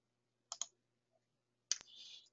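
Mouse clicks on a Save button during computer use: a quick double click, a pause, then another sharp click followed by a brief soft whir, all faint and isolated in quiet.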